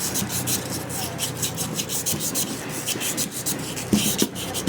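Rust is scrubbed off a motorcycle part, a close, rapid rubbing and rasping that repeats in quick strokes, with a couple of slightly harder scrapes near the end.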